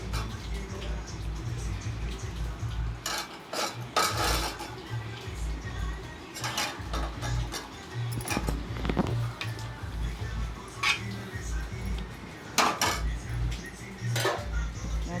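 Mango pieces being stirred into a tempered fish curry in a metal cooking pot give repeated clattering scrapes and clinks of a spoon against the pot in an uneven rhythm, close by, with faint background hum.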